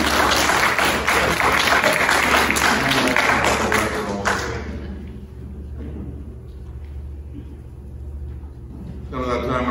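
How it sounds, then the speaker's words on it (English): A church congregation applauds its choir during a Presbyterian worship service, with dense, sustained clapping for about four seconds before it thins into scattered claps and murmurs, then a brief burst of clapping at the end. "I do believe that our choir needs a round of applause"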